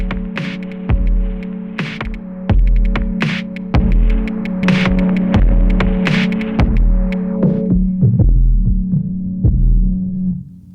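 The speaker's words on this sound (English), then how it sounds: "Let's have a listen to some distortion on that." A sample on an Elektron Model:Samples groovebox is played through distortion, giving a loud, gritty, droning hum under a steady throbbing pulse of punchy hits that thins out near the end.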